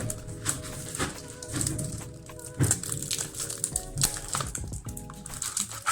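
Packaging of an Essence Jolie product gets torn open after a Lidl shopping haul, giving close, irregular crinkling and plastic rustles with a few sharp snaps and handling clicks.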